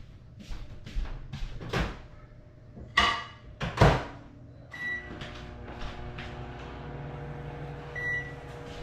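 A few clunks of an oven door are followed by a faint, steady hum while food heats, with a couple of soft beeps near the end.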